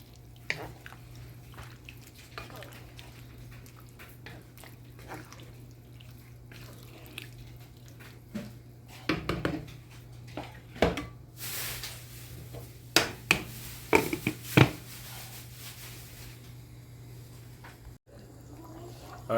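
Vegetable yam stew and broth stirred in a pot, soft sloshing and wet squelching with a few scraping knocks against the pot over a steady low background hum.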